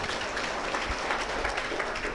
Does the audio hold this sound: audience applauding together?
yes